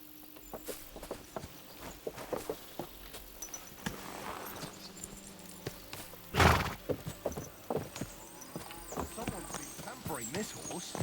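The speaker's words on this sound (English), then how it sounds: "Let's get my horse." Horse hooves clip-clop in Kingdom Come: Deliverance 2, a steady patter of footfalls with one brief, louder whinny-like burst midway, heard near and moderately loud amid game ambience.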